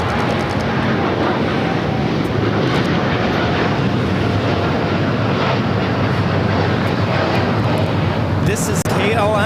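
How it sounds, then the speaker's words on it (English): A KLM Boeing 787-10 Dreamliner roars down the runway on takeoff at LAX, a loud, continuous broadband engine rush that holds steady throughout, with voices faintly underneath. "This is KLM 604 taking off to Amsterdam on a 787-10 Dreamliner in the KLM 100 years livery."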